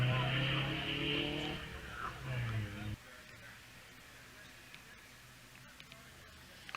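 Vintage car accelerating hard out of a corner at the Wiscombe Park hillclimb, a loud close engine roar for about three seconds that cuts off abruptly, leaving faint distant ambience with brief ticks afterward.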